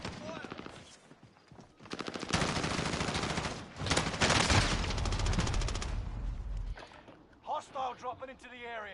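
Gunfire in the video game Warzone comes in dense bursts of rapid shots through the middle of the stretch, with lighter shots around it and game voices talking over parts of it.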